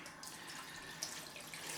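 Cold tap water runs steadily into a sink for rinsing a freshly shaved head, a continuous broad hiss with a small splash near the middle, close and moderately quiet.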